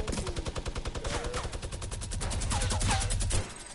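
Rapid automatic gunfire in a video game, a fast steady stream of loud shots that runs almost without pause, with a few faint game tones layered on top.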